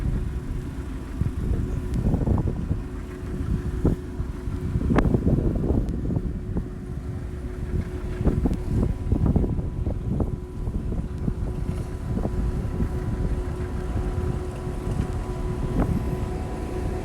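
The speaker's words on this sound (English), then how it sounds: "It's a little breezy today." Gusty outdoor wind at a plow match with tractor pulling, buffeting the microphone as a steady low rumble with rising and falling gusts throughout, near and fairly loud, with no talking.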